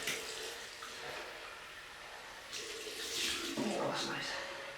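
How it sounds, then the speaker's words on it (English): Cold tap water runs and splashes steadily for a rinse after shaving, growing louder partway through, close by in a quiet room. "Cold water rinse."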